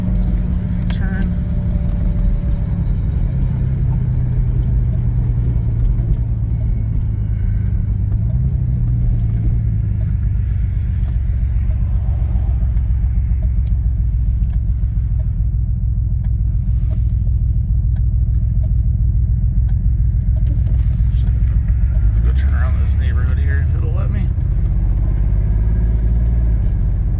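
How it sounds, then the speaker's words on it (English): The turbocharged engine of a 1989 Pontiac Grand Prix Turbo McLaren runs rough and misfires while the car is being driven, giving a steady loud rumble that breaks up under throttle. People talk over the engine throughout. "Any bit of throttle, it just seems to kind of break up like that."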